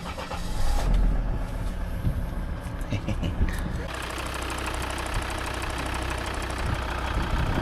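A car engine cranks and catches for a second start, then settles into a steady, even idle close by, with some voices in the background.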